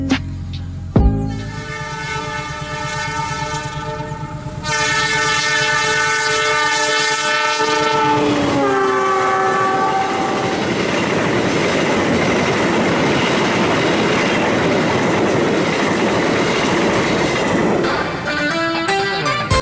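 The Argo Wilis passenger train, dubbed king of the southern line, passes close by with a long, loud, sustained horn blast followed by a roaring, clattering rush of carriages that fades near the end.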